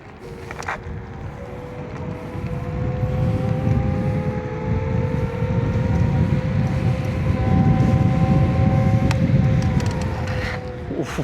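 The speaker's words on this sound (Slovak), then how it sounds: "hneď ako prvú vec si vyskúšame na G2 Ultra akceleráciu z miesta, a to hneď v najvýkonnejšom režime" KuKirin G2 Ultra electric scooter pulling away from a standstill in race mode with turbo on, a rising motor whine climbing steadily over rushing wind and road noise for several seconds.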